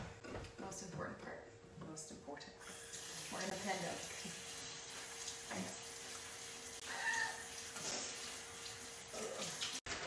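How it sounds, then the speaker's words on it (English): Hands washed under a running kitchen tap: a steady splash of flowing water into a sink, moderately close, with soft knocks and shifts and voices talking over it. "I have to wash my hands"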